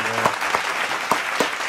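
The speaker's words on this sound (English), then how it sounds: "Clap it up, man." Sparse claps sound close by in a short, uneven burst, a handful of individual hand strikes over a faint background.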